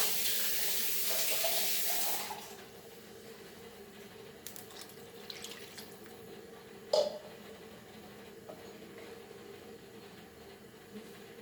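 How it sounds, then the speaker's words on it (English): More water is poured into a pan of Goan dry prawn and dry fish curry in a loud, hissing splash that lasts about two seconds. Quiet follows, with one sharp clink of a utensil. "Add little bit of more water."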